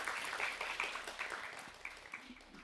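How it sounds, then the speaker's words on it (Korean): Faint applause from a crowd at a startup showcase event, a dense patter of many hands that slowly thins and fades toward the end. "큰 박수로 맞이해 주세요"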